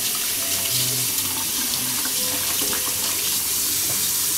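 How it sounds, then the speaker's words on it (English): A metal toaster part is rinsed under a running tap, a continuous hissing splash of water pouring and spattering in a sink at close range, with no voices. "So we give it a rinse."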